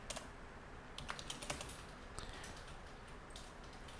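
Quiet, close-up clatter of fingers typing a command on a computer keyboard, with irregular bursts of key clicks and short pauses between them.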